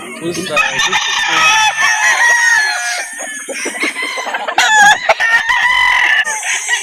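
Roosters crow loudly and repeatedly over a steady chorus of clucking chickens at a poultry market in Calauan, Laguna, with several birds calling close by and overlapping.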